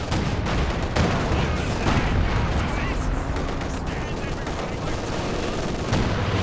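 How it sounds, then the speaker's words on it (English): Machine guns in Company of Heroes 2 keep up dense, sustained bursts of rapid fire, with heavy gunfire and distant booms layered into a loud battle din throughout. "Double machine guns really locking things down over here."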